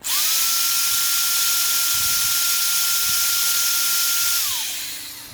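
An electric drill whirs up to speed and runs at a steady high whine for several seconds before spinning down, loud and close.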